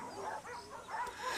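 A pack of hunting dogs from Actaeon's mythical hunt yips and barks in quick overlapping bursts over a soft background score, with no talk.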